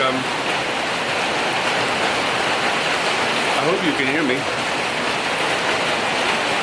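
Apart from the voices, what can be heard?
heavy pouring rain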